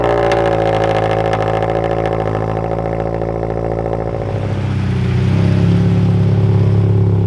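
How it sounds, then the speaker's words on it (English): A manual Toyota GR86 with an AWE aftermarket exhaust runs close by with a loud, rumbling idle during a cold start, then settles to a steadier, deeper drone partway through. "this is the last cold start up with this AWE exhaust"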